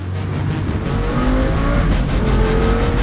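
A BMW 335i with its N54 engine revs hard, giving a loud, sustained roar that rises in pitch across the clip.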